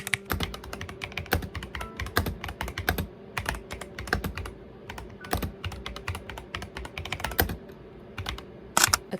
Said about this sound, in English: that was obviously a sound sample of the keyboard